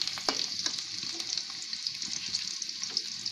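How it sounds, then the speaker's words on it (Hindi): Onions frying over a medium flame, a soft, even sizzle with light crackles and a few stirring taps, fairly quiet and close, no voices. "प्याज हमारा पक रहा है, इसे मीडियम आंच पे"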